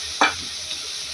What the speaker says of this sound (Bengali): এখানে আছে পেঁয়াজ রসুন আদা, এগুলাকে তেলে ছেড়ে দিলাম।